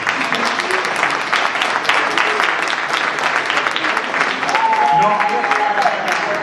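A room full of people at a club members' meeting claps steadily for several seconds, a dense even patter of hands with voices mixed in underneath.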